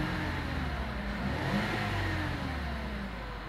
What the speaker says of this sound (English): I revved the engine to see if this PSI would change on the low side.